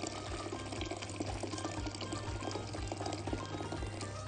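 Boiling water, about two litres, pours steadily into a cooking pot for a vegetable pasta soup, a continuous splashing rush with a low bubbling rumble underneath, close and unbroken.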